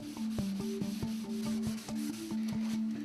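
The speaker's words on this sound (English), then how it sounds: "Sanding the grain takes it down to its original form." Hand sanding of a wooden haberdasher's cabinet after the old paint has been stripped, heard as steady, close scraping strokes in an even rhythm that repeat throughout with no talk.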